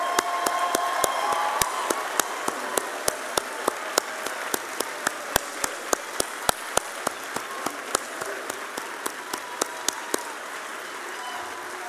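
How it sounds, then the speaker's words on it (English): A White Coat Ceremony audience at the University of Queensland Ochsner Clinical School applauds students, a steady bed of clapping punctuated by sharp, evenly spaced loud claps throughout. "Let's have a round of applause for all our students"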